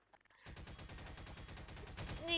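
Rapid gunfire in a video game, aimed at a monster in a maze chase game, as a steady dense burst of shots lasting about two seconds after a short quiet start, growing louder toward the end.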